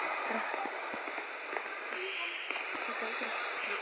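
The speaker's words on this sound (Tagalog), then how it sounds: "Umuulan pa din." Steady rain falling in the block-building game Minecraft, a continuous hissing wash with faint clicks, heard alone without talk.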